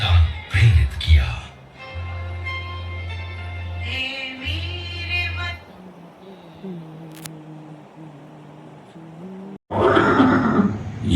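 Chetak, the famed horse of Maharana Pratap, whinnies in a dramatized farewell scene, with loud neighing bursts at the start over low droning music, then quieter tonal music and a final loud burst of noise.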